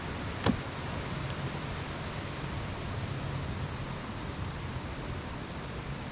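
Wind blows steadily at an outdoor campsite as broadband rushing noise, with one brief sharper gust or knock near the start and no talking.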